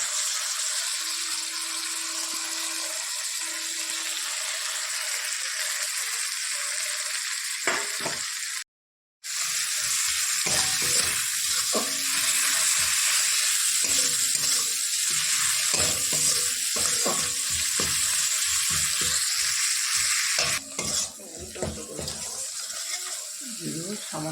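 Chopped tomato hits hot oil with cumin and other ground spices for ghugni, a broad hissing sizzle with a brief dropout, then stirring clatter and scraping; a voice speaks intermittently over it.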